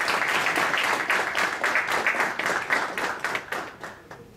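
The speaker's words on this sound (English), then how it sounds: "Can we give him a round of applause?" An audience at an awards ceremony claps in a lively burst of applause, individual hand claps audible in the mix, gradually tapering off.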